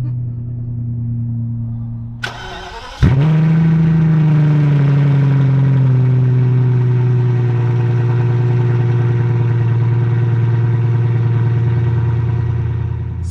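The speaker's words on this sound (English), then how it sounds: "it's straight piped. So we're gonna hear the V12 sound." A straight-piped BMW 760Li V12 fires up after a brief starter crank, settling from a sharp bark into a loud, steady, deep idle that stays close and continuous without talk.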